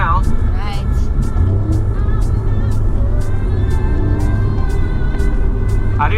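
An Alfa Romeo Giulia Quadrifoglio engine, heard from inside the car, gives a steady, loud low rumble with a broad, roaring texture throughout, with faint voices underneath.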